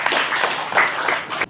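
Audience applause after a presentation at an Islamic boarding school in Depok, West Java: steady, dense clapping from a crowd, fairly close and continuous for the whole short stretch.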